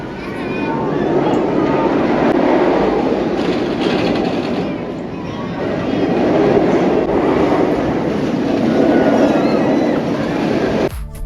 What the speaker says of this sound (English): Just listen to a clip of Kumba at Busch Gardens,